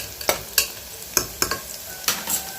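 Onions and dried red chillies sautéing in a pan, a low sizzle punctuated by about eight sharp scraping strokes of a spoon at an irregular rhythm, close and with no speech.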